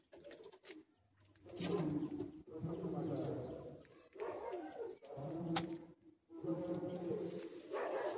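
A pair of desi pigeons, one Mughal and one Siya, cooing in repeated rolling phrases up close, with pauses between bouts and some background voices.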